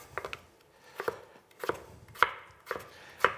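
Knife chopping through potatoes on a board, cutting them into fries by hand, several quick cuts in short bursts with pauses between, close and clear.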